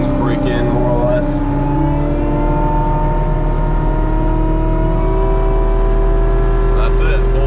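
Fecon Blackhawk forestry mulcher running at full throttle, a loud, steady whining roar with harmonic tones that hold and shift slightly, heard close throughout.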